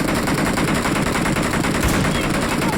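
Rapid automatic gunfire from a newly picked-up gun in a video game event, a dense, loud, continuous burst of shots with no pauses.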